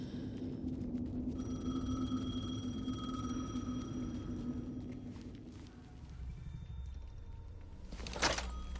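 A telephone rings in Alan Wake 2, a steady electronic ring tone repeating over a low room hum, followed by a brief louder clatter near the end.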